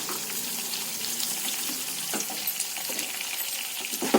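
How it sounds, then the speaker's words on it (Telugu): Fish pieces fry in hot oil, giving a steady, close sizzle with soft bubbling and a few faint clinks, and no talk. "అవి కూడా ఈ విధంగానే మనం ఫ్రై చేసేసుకుందాం."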